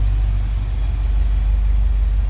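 Hemi V8 in a 2018 Jeep Grand Cherokee SRT 4WD idles with a deep, steady low rumble heard up close, smooth and unchanging throughout.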